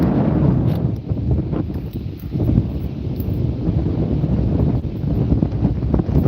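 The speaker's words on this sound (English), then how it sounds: "Boy, ain't that wind something else today." Strong gusty wind buffets the microphone on the Passadumkeag River in Maine during a fishing trip. It makes a loud, constant low roar with rustling swells and no voices.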